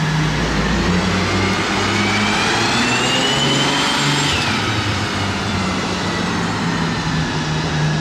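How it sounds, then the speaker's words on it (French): An Aston Martin Valkyrie Spider drives past on a road in Monaco, its engine a loud, sustained roar with a rising high-pitched whine that peaks and falls away as the car goes by. "la Valkyrie Spider là, c'est la première fois que je la vois rouler celle-ci"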